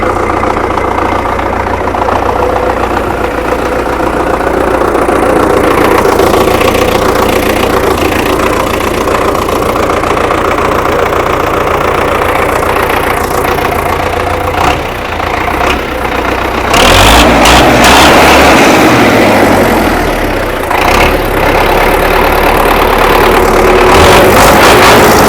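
A Belarus 82.1 tractor engine idles steadily and evenly, with no knocking, a continuous close mechanical drone that runs the whole time with a brief burst of broader noise partway through.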